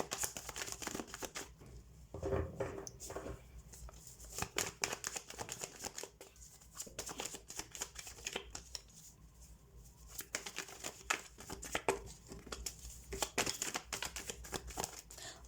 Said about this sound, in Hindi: सो सबसे पहले मैं सारे कार्ड्स शफल कर लेती हूँ